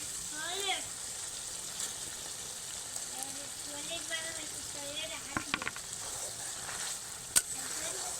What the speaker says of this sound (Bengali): এইবার কিন্তু ভেজে রাখা ডিমগুলো দিয়ে দেবো